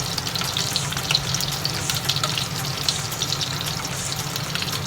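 Japanese-style teriyaki meatballs fry in oil over medium heat, a steady, close sizzle with crackling pops that holds evenly throughout and has no talking over it.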